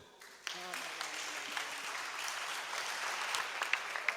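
A church congregation at a Sunday service breaks into loud, sustained applause with scattered cheers and voices mixed in.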